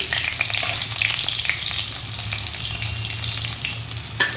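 Potatoes frying in hot oil in a home kitchen, a steady close sizzle with light crackle throughout and a sharper clatter near the end, no voices.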